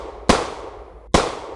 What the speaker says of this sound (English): the room came to life through the sounds of semi-automatic gunfire and screams